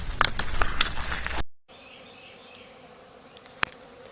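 Honeybees buzz close by during a residential hive cutout, a dense loud drone that cuts off abruptly, then a quieter hum with faint buzzing and a single sharp click.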